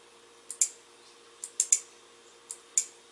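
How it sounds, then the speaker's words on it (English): An electrical contactor snaps closed and open as coil voltage is applied, several sharp mechanical clicks arriving in pairs and singles, crisp and close over a faint steady hum. "you can hear a slow click"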